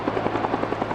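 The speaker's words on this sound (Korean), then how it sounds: "좌우 양쪽에서 2대의 코브라 헬기가 20mm 기관총을 발사한다." A Cobra attack helicopter armed with a 20mm gun gives off a loud, steady rotor thump with rapid, evenly spaced blade slaps over an engine hum, close by and with no voices.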